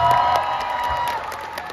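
A live concert audience at a show in Jakarta applauds and cheers in a steady, dense wash of clapping that holds for the whole short stretch.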